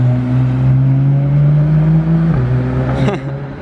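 Porsche GT3 RS driving past, a loud engine drone holding steady and then dropping in pitch as it goes by, with a brief higher sweep near the end.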